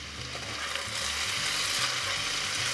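Seasoned potatoes fry and get stirred in a pan over a high flame for a potato frittata, giving a loud, continuous sizzle with a soft rhythmic scraping underneath.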